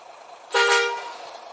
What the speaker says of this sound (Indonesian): Lalu untuk klakson setirnya seperti ini.